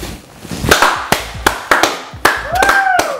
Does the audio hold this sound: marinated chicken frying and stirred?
no